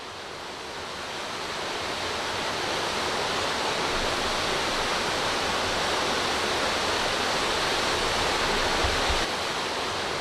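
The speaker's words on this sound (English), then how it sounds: "Bonington Linn is the widest of the falls with a drop of about 30 feet. This is how they look in full spate." Bonington Linn, a wide waterfall with a drop of about 30 feet, roars in full spate as a steady, loud broadband rush of churning water, swelling slightly over the first seconds and then holding constant with no voices.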